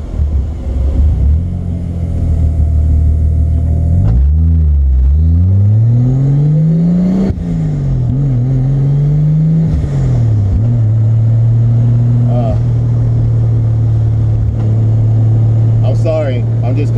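Toyota MK3 Supra with a turbocharged 7MGTE straight-six, loud and close as the engine revs up and down in sweeping rises and falls, then settles to a steady drone; a voice talks briefly over it.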